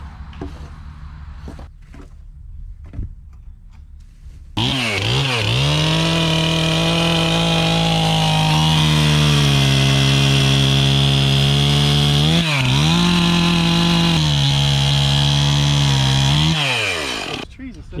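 A chainsaw starts up after a few seconds of quiet background and runs loud and close at a steady high idle, briefly revving twice, with people talking faintly nearby.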